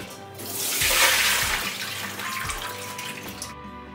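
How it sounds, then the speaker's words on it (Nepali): Soaking water from cut potatoes is poured away into a sink, a close splashing gush that swells and then tapers off over a few seconds, with no talk. "बीस मिनट बाद भिजाएको यो पानीलाई चाहिँ फ्याँकिदिने"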